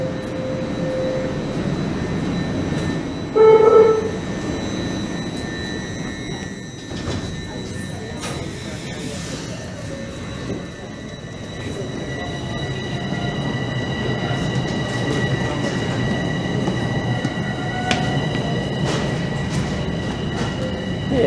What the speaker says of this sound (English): This is a very empty southbound train.